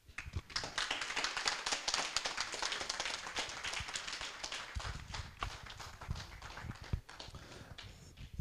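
Audience in a hall applauding after an independence lecture speech, dense sustained clapping that swells, thins slightly and carries on, heard from a distance at moderate volume.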